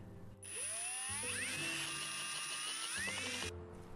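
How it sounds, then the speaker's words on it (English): A wooden roller mounted on a rod spins in an electric screwdriver while a chisel shaves it down, a whining motor that rises in pitch and runs for about three seconds alongside a scraping cutting sound. "Using the screwdriver and the chisel, we reduce the circle to a suitable size."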